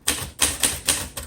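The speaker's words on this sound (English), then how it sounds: "If you've never typed on glass keys, you need to try it." Keys are struck on a 1946 Royal Arrow portable typewriter with glass keys, giving five crisp, close clacks at an even, quick rhythm.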